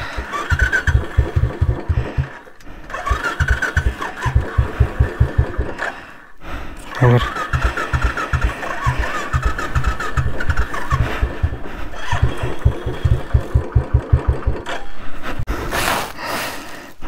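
Motorcycle engine being cranked repeatedly without catching: bursts of rapid starter-motor chugging in several separate attempts, loud and close, with someone talking between tries.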